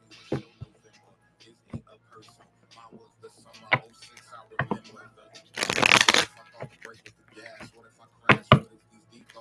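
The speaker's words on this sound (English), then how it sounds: "Let me just go ahead and shuffle all the cards first" A deck of tarot cards is shuffled up close, giving a loud riffling burst in the middle among scattered taps and card handling sounds, with people talking softly around it.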